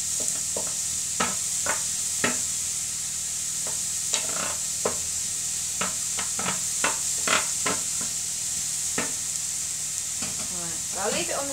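Garlic softening in a hot pan while being stirred, a steady sizzle underneath with repeated scraping strokes of the spoon at an irregular pace, close and clear.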